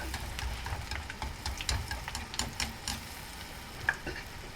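Sri Lankan oil cakes (konda kavum) frying in hot oil while oil is spooned over the top with a slotted spoon, giving a steady close sizzle with soft stirring scrapes and occasional clicks.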